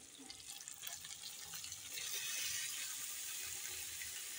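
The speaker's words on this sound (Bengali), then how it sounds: "জলটা ছড়িয়ে নিয়ে একটু জল" Water is poured into a pan of jackfruit curry as it cooks, a steady close splashing pour lasting a few seconds with no talk over it.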